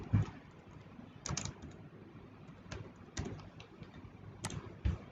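Quiet clicks of a computer keyboard during a presentation-software lesson on slide masters and hyperlinks, with scattered single keystrokes and small clusters of taps spaced across several seconds in a hushed room.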